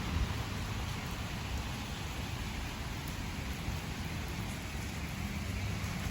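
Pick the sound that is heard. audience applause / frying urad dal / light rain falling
light rain falling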